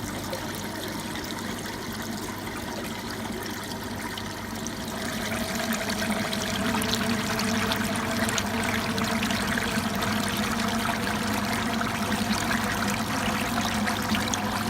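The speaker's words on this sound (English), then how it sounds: "I just open up to get some water flowing from the pond itself" Pond water running into a homemade koi filtration setup, a steady trickling and pouring flow that grows louder and fuller about five seconds in and then holds, continuous and close with no talk.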